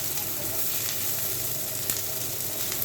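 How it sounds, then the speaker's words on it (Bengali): Onion and dried red chilies frying in a pan give a steady, close sizzle with continuous bubbling crackle and a few soft stirring scrapes, no voices. "পেঁয়াজটা আর শুকনো মরিচটা আমি ভেজে নিচ্ছি"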